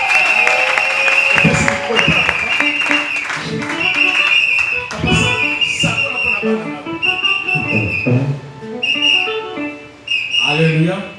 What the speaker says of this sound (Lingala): L'église acclame pour le Seigneur.